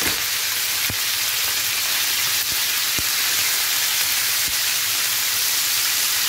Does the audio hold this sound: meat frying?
yes